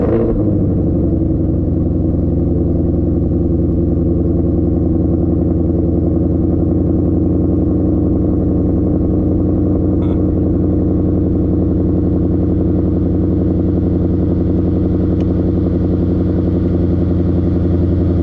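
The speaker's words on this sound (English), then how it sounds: "What I'm going to do here is drop you into me driving the GT500 for the first time." Engine of a 2020 Ford Mustang Shelby GT500 on a race track, a loud, steady sustained drone heard from inside the car throughout, with no talk.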